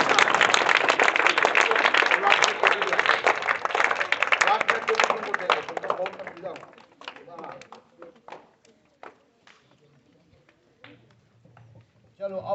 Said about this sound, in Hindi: चलिए, इसको ताली बजाइए।